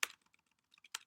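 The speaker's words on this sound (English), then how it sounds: "God, my typing's not working well today." Keys clacking on a computer keyboard while Python code is typed, a loud burst of strokes at the start, scattered light taps, then another quick cluster near the end, close up and with no talk.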